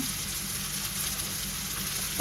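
An egg fries in a pan, giving a steady close crackling sizzle throughout, with one brief clatter right at the end and no voices.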